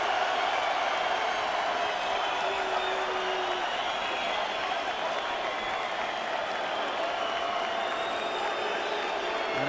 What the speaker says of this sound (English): And getting great support from the crowd.